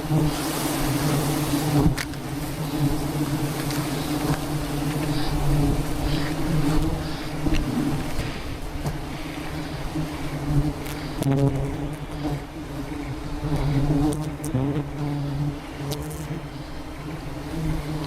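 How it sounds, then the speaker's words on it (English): Wild bees swarm around several active hives in a tall rainforest tree, a dense continuous droning hum that swells and fades as insects pass close by. "Today, this tree has several active hives, and we plan to harvest from a few more before the sun begins to set."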